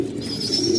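A female pigeon sitting on her eggs gives a soft, low, continuous coo, close by and alone.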